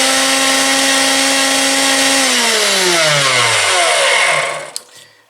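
A General International 4 inch benchtop bandsaw whines steadily at full speed, then its motor pitch slides down as it spins to a stop, close and loud.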